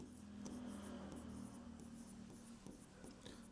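A pen scratches quickly across paper as maths notes are written in a class lesson, a faint continuous rubbing made of short strokes, close to the microphone and alone.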